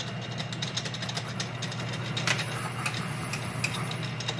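A metal lathe cuts a hardened snowblower shaft, producing a steady, dense machine drone with irregular sharp ticks throughout and no talking.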